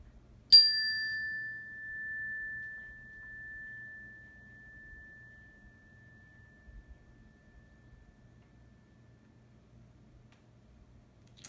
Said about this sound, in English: You're gonna listen to the chime, and when you can't hear the sound anymore,